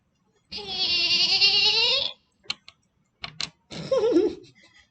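Sheep bleat loudly and close, one long wavering cry followed by a few short clicks and knocks and then a second, rougher bleat that trails off.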